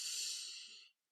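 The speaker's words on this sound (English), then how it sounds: "So here's a few breathing exercises, right? All it takes is a couple of breaths in and out." One deep, steady breath out during a breathing exercise, a close airy rush that holds for nearly a second and then stops abruptly.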